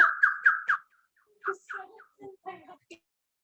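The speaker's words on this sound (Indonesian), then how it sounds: "Ada burung apa, Bu?" A bird calls in a classroom setting, giving four quick bright chirps close together, followed by a few softer, scattered calls that come in short bursts.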